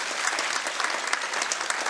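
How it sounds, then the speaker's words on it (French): A conference audience at an emergency medicine congress gives a speaker a short burst of steady, dense applause, close and even throughout with no voices over it. "On peut l'applaudir, il va entendre l'applaudissement."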